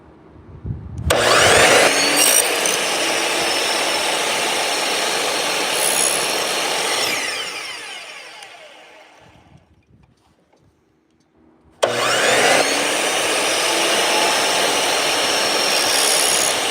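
A power saw blade cuts wood at a 45-degree bevel, setting the blade about a quarter inch high. It whines loudly for several seconds and then spins down to near silence. A second loud cut starts abruptly and runs steadily to the end.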